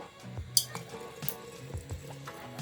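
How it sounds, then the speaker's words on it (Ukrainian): Mint candies dropped into a glass jar of birch sap crackle. A few sharp, isolated clicks and pops ring against the glass over soft liquid sounds, close and fairly quiet. "Ці цукерки трошки дають такий звук як будь-то тріскає банка, не лякайтеся, банка не тріскає."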